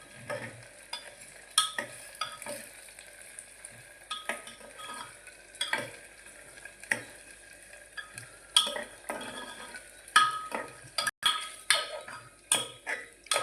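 Potatoes and onions cook in a pan for a Gujarati sabzi, with steady background frying sizzle broken by repeated sharp scrapes and clinks of a spoon against the pan, fairly close and without speech.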